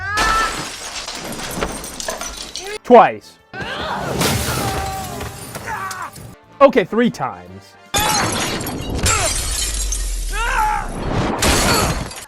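Glass shatters repeatedly in the Uncharted game as a character is thrown through a window, loud crashing bursts among action noise, with someone talking over much of it.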